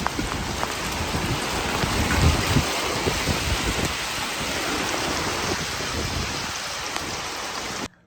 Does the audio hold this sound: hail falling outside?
yes